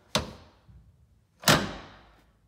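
Two sharp metallic clunks, about a second apart, as a retractable M.O.R.E. Hide A Step on a Jeep Wrangler JL Rubicon folds up and catches against itself, the second louder and ringing briefly.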